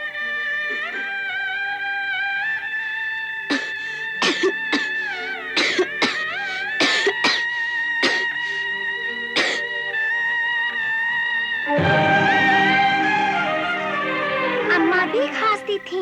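Several sharp coughs break out in an animated Aladdin story scene, sounding against sustained tonal voices and music, with a denser mix of vocal sound toward the end.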